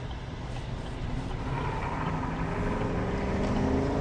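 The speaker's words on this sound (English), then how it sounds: "I just want you guys to see, or actually hear, how it sounds like with the V8 noise" A 2025 GMC Sierra 1500 Pro pickup's V8 rumbles steadily and grows slightly louder and rougher as it accelerates, a low continuous roar with no voices.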